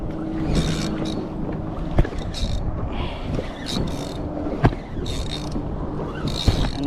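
A kayak moves across open water on a fishing trip, with a steady wash of water and wind noise close to the microphone and a few sharp knocks of paddle or hull.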